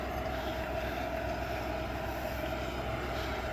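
A steady, low tractor engine drone hums continuously at moderate distance while working a field, even and unchanging throughout, with no voices.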